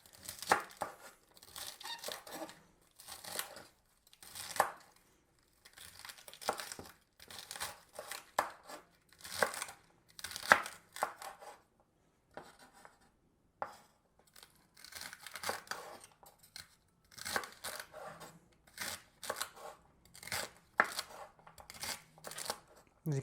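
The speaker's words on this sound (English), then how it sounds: "I just roughly chop it" A knife roughly chopping celery on a board, a quick series of close, crisp crunching cuts in bursts with short pauses, softly spoken talk in places.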